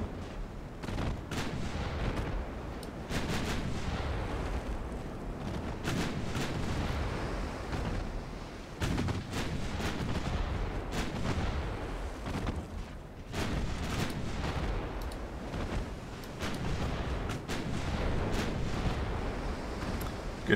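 5-inch warship guns fire a full broadside in the naval game Ultimate Admiral Dreadnoughts, rendered as a dense, continuous run of booming shots and rumbling blasts overlapping one another, loud and close, with no talking.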